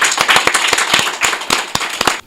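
A small audience greets a guest on a talk show with a short, sparse round of applause, a few sharp, close, uneven claps that stop abruptly.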